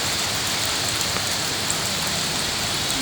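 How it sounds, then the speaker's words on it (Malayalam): Heavy rain that is beginning to ease pours down, a dense continuous hiss with scattered drops, no voices. "മഴ നല്ല ശക്തിയിലായിരുന്നു കേട്ടോ ഇപ്പോൾ ശക്തി കുറച്ചൊന്ന് കുറഞ്ഞു വരുന്നുണ്ട്"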